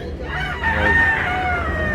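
Roosters crow at a busy Tabunok, Talisay, Cebu poultry market, a loud drawn-out call rising over clucking chickens and a constant crowd murmur.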